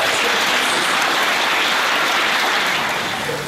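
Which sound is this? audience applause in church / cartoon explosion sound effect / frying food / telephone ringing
audience applause in church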